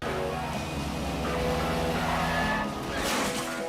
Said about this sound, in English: I'm a sucker for these kind of car chases.